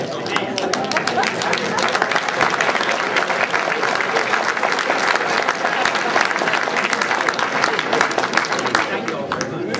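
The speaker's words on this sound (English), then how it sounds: "Let's give the speaker a round of applause." An audience in a hall applauds a speaker, many hands clapping in a dense, steady roar that holds evenly at close range for the whole stretch, with faint crowd murmur mixed in.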